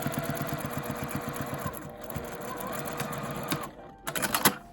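Sewing machine stitching fabric for a tent pouch, a rapid rhythmic mechanical whir of needle strokes running close and steady for about two seconds, then slowing into quieter handling noises and small clicks.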